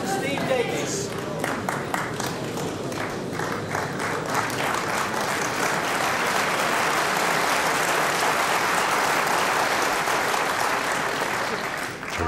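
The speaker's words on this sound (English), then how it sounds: "Terrific round of applause then for Steve." Loud, sustained round of applause from the crowd at the 1984 World Snooker Championship final between Davis and White, steady dense clapping for Steve Davis across the whole stretch with murmuring voices underneath.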